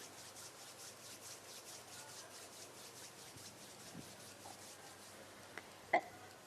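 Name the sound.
palms of hands rubbing together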